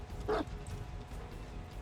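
A Houndmaster's dog in a video game gives one short bark, loud and close, with faint game background sound before and after it.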